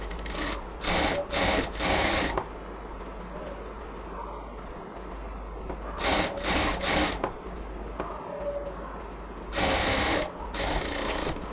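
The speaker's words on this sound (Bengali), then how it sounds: "এটাকে অবশ্যই ডাবল সেলাই দিয়ে নিতে হবে।" A sewing machine stitches the side joints of a frock in three separate bursts of rapid, buzzing needle runs, each a few seconds long, with quiet pauses between them.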